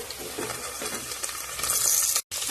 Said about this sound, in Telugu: ఆలు అయితే వేసేసాను మంచిగా అయితే ఫ్రై చేసుకోవాలన్నమాట